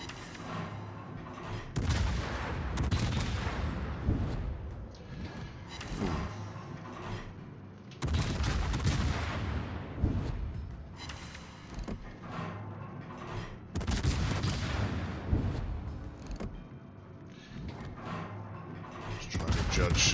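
The Des Moines, a Tier X heavy cruiser in World of Warships, fires full broadside salvos of armor-piercing shells: three heavy booming volleys several seconds apart, each rolling off into rumbling decay, loud and close.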